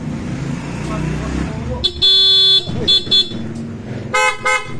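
Blaring bursts of a Honda ADV 160 scooter horn, one long and several short, sound close over idling engine noise and chatter from nearby people.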